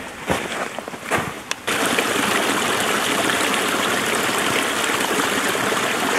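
A snowy creek flows steadily through the woods with a continuous rushing babble of water, close and fairly loud. A few crunching footsteps sound near the start before the water noise takes over.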